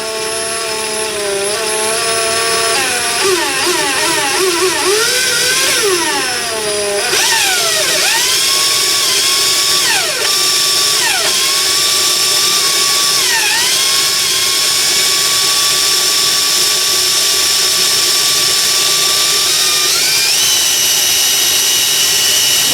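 A drill with small bits bores during a fuel pump controller install on a 1965 Corvair, giving a loud, continuous whining motor whose pitch repeatedly dips and recovers as the bit bites.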